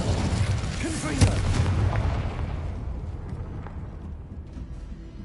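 Confringo blasting spell going off in the Hogwarts Legacy video game, a sharp booming burst near the start over dense battle rumble that gradually fades, with a voice faintly present.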